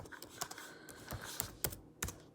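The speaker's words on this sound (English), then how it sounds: "Typing over on one side." Soft, irregular clicks of keys being pressed on a computer keyboard, quiet and close, with uneven pauses between taps.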